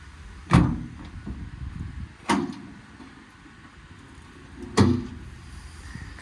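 Three solid slams of service body doors on a 2014 Ford F450 diesel service truck with a Palfinger crane, each door shutting and latching with a firm metallic thud, spaced a second or two apart outdoors, with no talking.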